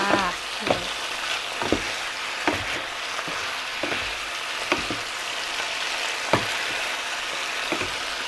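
Pork belly stir-fried with ginger and spring onion sizzles steadily in a pan, with regular sharp clacks of a spatula scraping and tossing the meat every second or so, close and fairly loud, no talking.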